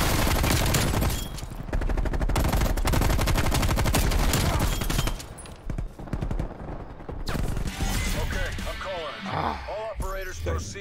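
Sustained automatic light machine gun fire in a Call of Duty Black Ops Cold War match on Nuketown, loud and continuous for about five seconds and then tapering off, with game effects and excited player talk over it.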